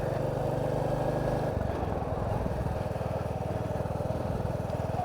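A Royal Enfield Classic 350 motorcycle rides along a quiet countryside glen road, its engine thrumming steadily with a fast, even pulse and a brief shift in note early on.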